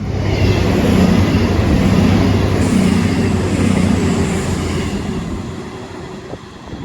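A diverted Cross Country train rumbles loudly through Four Oaks station, its wheels and engine a steady roar that eases off as it passes, with a brief high whine near the start.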